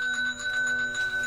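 A doorbell rings in a television episode, a steady sustained electronic bell tone lasting the whole moment, clear and alone.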